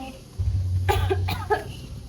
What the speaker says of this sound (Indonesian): Kenapa tuh batuk-batuk tuh?